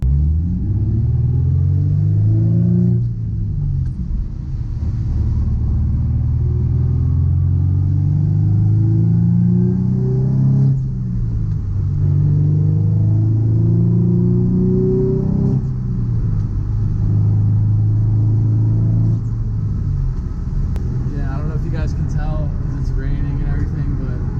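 Interior engine drone and low rumble from a Nissan 350Z on a test drive after a urethane transmission mount install, steady and loud with rises and dips as it accelerates and shifts, a voice heard over it.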